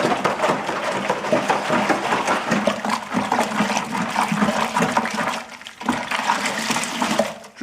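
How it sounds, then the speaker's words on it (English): Apple juice and sugar swirl and slosh in a brew bucket under vigorous stirring, a loud, steady churning wash of liquid that briefly drops away near the end. "a lot of stirring, but that way you're also aerating the apple juice"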